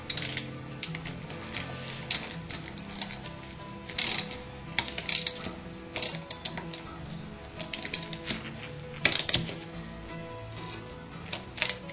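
A wrench tightens a threaded Synchronic adapter flange fitting, making a dense run of close metallic ratchet clicks and grinding thread sounds in bursts, no talk.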